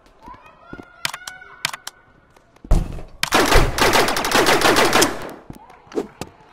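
Laser gun shots in a Rec Room dodgeball game: scattered sharp single zaps, then a long loud rapid-fire burst of several seconds, followed by a few more isolated shots.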